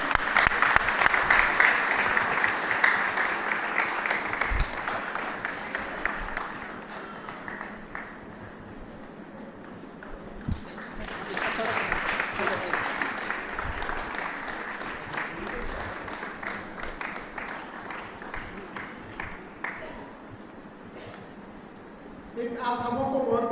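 An audience at a men's committee event honoring school children claps for the women's chairperson, with dense, sustained applause that fades and then swells again, and a voice speaks near the end.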